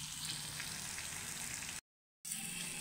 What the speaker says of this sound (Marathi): कूट घालून सुद्धा थोडंसं परतवून घेतलं।